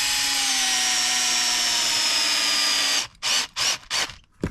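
A power driver runs screws during an Arrma Big Rock RC car repair. One long, steady motor whine with falling pitch plays close and loud for three seconds, then gives way to several short bursts.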